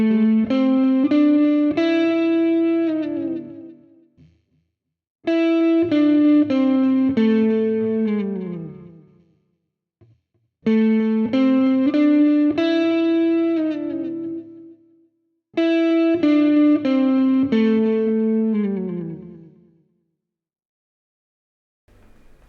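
Electric guitar playing beginner blues phrases with slides between notes, run through effects with distortion and chorus; four similar phrases of sliding, ringing tones, each fading out before the next, played alone with no talking.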